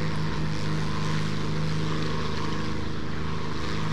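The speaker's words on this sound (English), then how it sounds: "Let me go ahead and throttle up a little bit. Let's go to military engine." A warplane's propeller engine in the War Thunder video game, throttled up to military power, drones as a steady, loud, continuous hum with a low tonal buzz that holds level throughout, with no voices.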